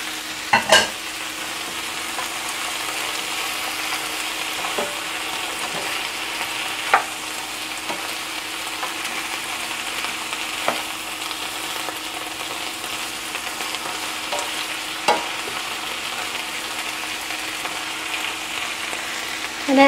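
Eggplant frying in a pan for kare kare, a steady soft sizzle under intermittent scraping stirs and occasional clicks of a utensil, fairly quiet and close, with no voices.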